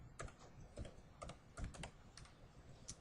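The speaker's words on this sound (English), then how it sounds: "I'm going to type in Revit City" Typing on a computer keyboard, close and clear with uneven clusters of crisp key clicks and short pauses between bursts.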